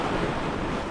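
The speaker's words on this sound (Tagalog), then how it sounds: "himahampas mga alon dito." Ocean waves wash onto the shore at low tide, a close, continuous roar of surf mixed with buffeting wind noise, with no voices.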